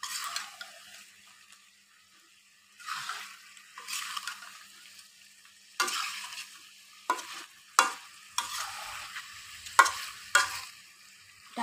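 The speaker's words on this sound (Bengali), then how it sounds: "আমি ভাজা বেগুন, আলু সব ঢেলে দিয়েছি, একটু ভালো করে মিক্স করে নিচ্ছি।" A spoon stirs fried eggplant and potato in a pan while cooking magur fish with sidol. Scraping, sizzling bursts come in irregular strokes separated by quiet pauses, growing sharper toward the end.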